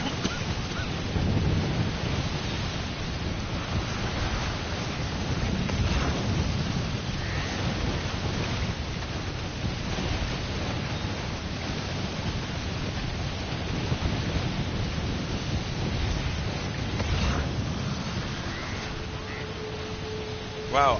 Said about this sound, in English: The storm's so loud.